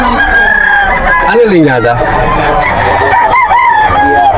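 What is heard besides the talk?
stag rooster crowing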